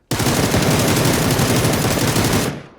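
Sustained rapid automatic gunfire aimed at a bear in the video game PUBG, loud and continuous for over two seconds before cutting off abruptly.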